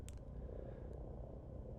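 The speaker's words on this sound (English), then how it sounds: "it's just ambient engine noise for the Asp" Ambient engine hum of a Lakon Asp ship in Elite: Dangerous, a steady low purring drone held evenly throughout at a faint level, with a brief higher tick near the start.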